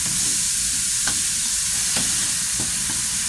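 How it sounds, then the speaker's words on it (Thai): Minced pork stir-fried for pad kaphrao, a loud steady sizzle from the pan with a few sharp scrapes of the spatula, close up and with no voices. "แล้วก็ผัดลงไปนะฮะ ผัดลงไป"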